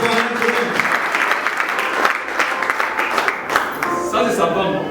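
A congregation at a church day of worship and offering sale applauding steadily and loudly for several seconds, with voices talking and calling out over the clapping.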